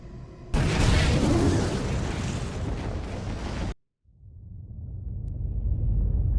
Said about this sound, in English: Follow the direction of the explosion